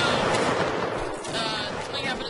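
A musket volley fired by a line of soldiers in Mount and Blade: Warband: dense, overlapping gunshots crackle and boom together, loud and sustained, then trail off in rolling echoes.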